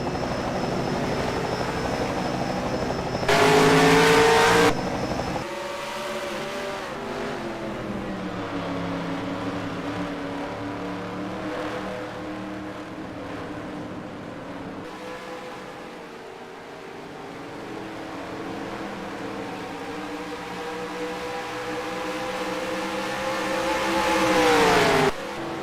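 Race cars lapping an oval in the NASCAR Racing 2003 video game at Lowe's Speedway: a steady droning engine roar that rises and falls as cars pass, with a louder burst early on and a swell near the end.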